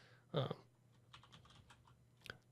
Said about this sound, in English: you can type on the keyboard of your console or computer